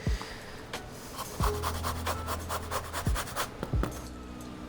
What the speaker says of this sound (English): You want to zest it first, juice it after.